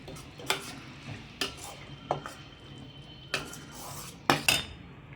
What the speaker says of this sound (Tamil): நம்ம தட்டு போட்டு மூடி விட்டுலாம்